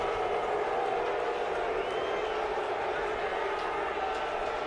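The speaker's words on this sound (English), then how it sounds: "And you're hearing the crowd in the background." The crowd at the 2017 NASCAR fall playoff race at Martinsville makes a steady, distant roar that fills the background without letting up, a broad wash of noise with no distinct cheers standing out.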